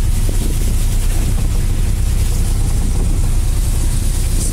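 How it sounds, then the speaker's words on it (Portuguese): A fishing boat's engine drones close by at sea, a loud, constant low rumble mixed with wind buffeting the microphone. "No momento aí vocês acompanham a embarcação bem próxima aí, o barco pesqueiro"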